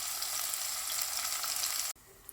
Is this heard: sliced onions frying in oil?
yes